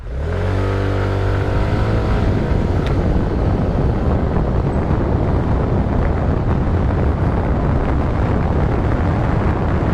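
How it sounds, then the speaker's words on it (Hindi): A 2025 TVS Jupiter scooter pulls away from a standstill at full throttle, its engine note climbing quickly in pitch before dissolving into a loud, constant roar of wind and road noise close to the microphone. "मैं आपको एक पिकअप लेके दिखाता हूँ 0 से। तो पीछे पूरा खाली है। सो 1 2 3 मैं एकदम पूरा थ्रॉटल करूँगा।"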